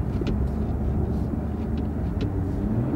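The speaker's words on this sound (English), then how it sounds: "But just for giggles, let's put in manual shifting." A Toyota car with an automatic transmission set to manual shifting accelerates, its engine a steady low rumble heard from inside the cabin with a few faint clicks over it.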